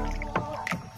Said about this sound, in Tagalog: Yung aming bangka ay walang makina, tamang sagwan-sagwan lang